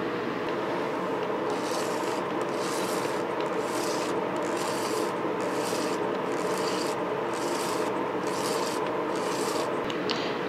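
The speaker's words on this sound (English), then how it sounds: "an entire 50-foot core of 16mm film was wound onto this flange spool thing" 16mm film is wound onto a flange spool by hand, giving a continuous close rubbing whir with a regular rhythmic swish of roughly one stroke per second as the spool turns, with no talking.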